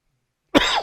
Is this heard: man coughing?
yes